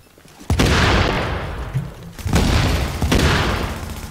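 In a squad shooter game, a grenade explodes with a loud, sharp boom, followed by heavy blasts and gunfire that roar and decay through the next few seconds.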